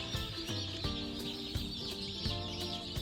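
Two-day-old meat chicks on a farm, a crowd of them peeping and cheeping continuously in a dense high chorus with soft thumps now and then, no talk.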